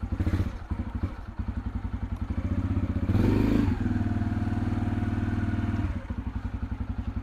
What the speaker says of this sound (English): got to keep choking these bikes so they warm up